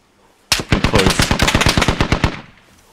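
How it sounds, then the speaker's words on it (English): A Humvee-mounted gun in the military shooter Squad fires a sustained burst of about twenty rapid rounds in an even rhythm, loud and fairly close, stopping abruptly after about two seconds. "I'm taking fire. From 195 Humvee, I think."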